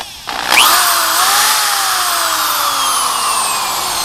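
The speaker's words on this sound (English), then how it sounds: "that's a variable speed drill" A variable-speed electric drill, plugged into a repaired extension cord, whirs up to speed after a brief pause, its motor whine sliding lower as it runs steadily, loud and close.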